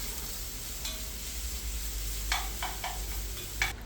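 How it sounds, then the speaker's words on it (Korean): Vegetables and two bay leaves softly sizzle in a pot over medium heat, with a few brief clinks of stirring utensils against the pot, quiet and close. "건져낸 냄비에 준비한 야채와 월계수잎 두 장을 넣고 중불에서 색이 나지 않게 볶아줍니다"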